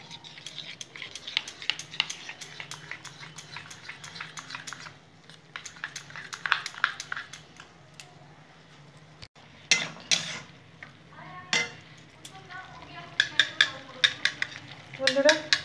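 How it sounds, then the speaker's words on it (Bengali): Yogurt whisked in a bowl with Kashmiri chilli mixed in, giving quick soft scraping and tapping strokes in uneven bursts, close and moderately loud, with faint clinks against the bowl. "ভালো করে দইটা ফেটিয়ে নেব।"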